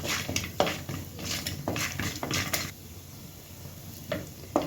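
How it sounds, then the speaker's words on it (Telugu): Peanuts frying in a pan for an aloo tomato curry, heard as a soft sizzle broken by sharp clinks and scrapes of a spoon against the metal, close and irregular. "పల్లీలు కూడా కొంచెం వేగాలి."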